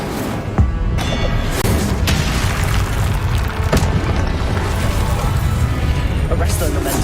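Incendio fire spell blasts in Hogwarts Legacy on hard mode, booming bursts and crackling impacts repeating amid ongoing combat clatter, loud and close, with dense fight noise between the hits.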